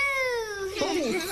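A voice mimics an owl's hoot in a forest-themed children's setting: one long falling, tonal call followed by a shorter wavering one, close and clear.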